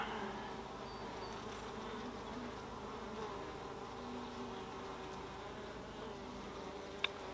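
Honey bees buzzing over a hive frame during a package-versus-nuc hive inspection, a soft continuous hum of many insects close by, with one brief click near the end and no voices.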